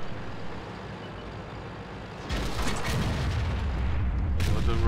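A tank cannon fires during a tournament match of an online tank battle game, a sudden heavy boom partway through that cuts into a rumbling engine drone, followed by a long, loud roar, with a second sharp burst near the end.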